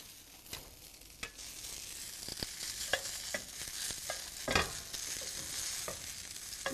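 Onion added to mushrooms frying in a pan, a soft close sizzle with intermittent clacks and scrapes of stirring, fairly quiet overall.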